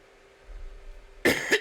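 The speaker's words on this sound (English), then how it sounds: "I'm still coughing" A quick cough, two short harsh bursts close to the mic, after a moment of near silence.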